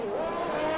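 Red Bull Formula 1 car missing its front wing in an F1 racing game at Belgium, its engine a steady high-pitched whine held close and loud throughout the brief pass.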